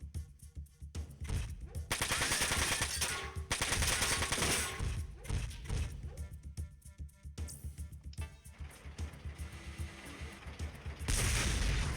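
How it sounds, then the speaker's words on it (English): Rapid machine-gun bursts and heavier booming shots from mech combat in the video game Front Mission 4, loud and repeated in several long volleys with brief pauses between. "And now he's shooting from behind."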